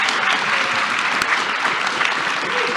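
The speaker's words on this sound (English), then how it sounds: "let's give these guys a big round of applause" Steady applause from a crowd, continuous and fairly loud throughout, with no pauses.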